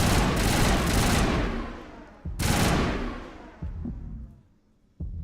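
Gunfire in the Mass Effect video game: heavy sustained bursts of shots, loud and close, with a brief pause, a second long burst, and a fading tail before one more sharp hit.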